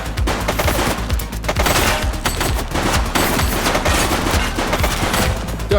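Loud gunfire rattles nonstop from a police shootout in The Precinct video game, dense overlapping bursts and rapid shots filling the whole stretch with no pause.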